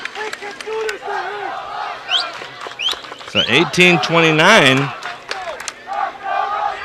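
A girls' high school soccer crowd at a CIF first-round playoff game cheers and yells in a loud swell that builds midway and then fades, mixed with a commentator's voice.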